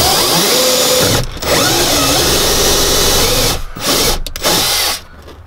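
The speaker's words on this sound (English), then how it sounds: "So I'm just going to drill a hole" A power drill whirs loudly and steadily while drilling a hole through a panel with sound insulation behind it, cutting out briefly a few times as the trigger is released, then spinning back up.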